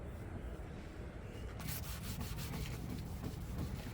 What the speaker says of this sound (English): This time I'm just going to hand wax it, just like old times